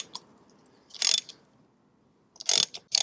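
A ratchet clicks in short bursts while the oil drain plug on a Triumph Scrambler 900 motorcycle is snugged up, with three quick, close ratcheting passes separated by brief pauses.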